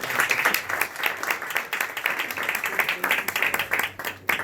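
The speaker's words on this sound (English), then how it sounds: "let's just give them another round of applause" An audience at a Democratic congressional candidate forum applauds steadily, a dense, moderately loud patter of many hands clapping with no talk over it.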